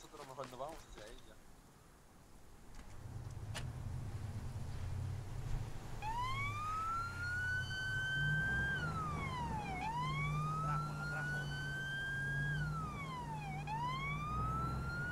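Ambulance siren in the video game Arma 3, a wailing up-and-down tone rising and falling in long sweeps at moderate distance, heard under voices talking in Spanish over a low engine rumble.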